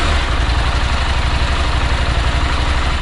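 A Husqvarna Norden 901 adventure motorcycle engine idles close up, a loud, steady low throb with even pulsing and no change in revs or any voices.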